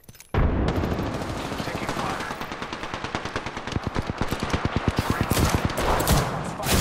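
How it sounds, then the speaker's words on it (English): Rapid automatic gunfire in Apex Legends, a dense loud burst of shots that settles into a steady rattling rhythm lasting several seconds, with no talk over it. "Getting shot at."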